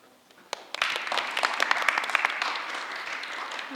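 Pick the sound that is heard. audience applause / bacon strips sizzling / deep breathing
audience applause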